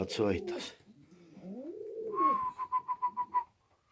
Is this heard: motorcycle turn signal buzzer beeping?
no